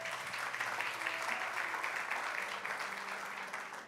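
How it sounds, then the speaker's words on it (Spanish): Church congregation applauding during a sermon, a fairly faint, sustained roar of clapping from a large room with no distinct voices. "Dele un aplauso fuerte a nuestro Dios."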